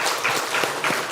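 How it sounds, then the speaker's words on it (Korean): Church congregation applauding during a Sunday service, a short burst of clapping with a few rhythmic accents, moderately close. "박수해 주시면 감사하겠습니다."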